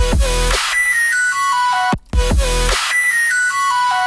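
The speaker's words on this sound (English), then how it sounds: "It has that same weird tinny, metallic-y, robotic sound in there." An AI-generated Suno synth lead with a tinny, metallic, robotic tone plays a descending stepped melody in two similar phrases, separated by a brief gap of silence, loud and upfront with no voices.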